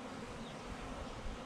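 Honey bees hum in a dense, steady buzz while a package is installed in a Layens horizontal hive, close and continuous with no speech.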